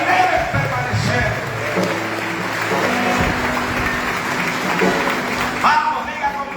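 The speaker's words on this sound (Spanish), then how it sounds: "Dale el aplauso fuerte al Señor en esta mañana." A church congregation claps during a Spanish-language sermon, a dense, steady wash of applause that lasts the whole stretch, mixed with voices and other sound.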